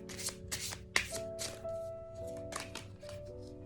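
Tarot cards being shuffled and picked, a series of quick close riffling and flicking bursts with soft taps between, alongside a steady low tone and light background music.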